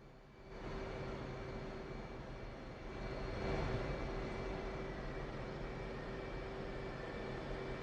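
Jet aircraft engine in the DCS flight simulator, a steady droning whine with a constant high tone, rising slightly in loudness partway through as the plane taxis toward the runway.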